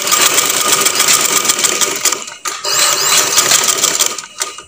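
Sewing machine stitching a neck band onto a shirt, a loud close rapid mechanical whirring with brief pauses and restarts, running without speech.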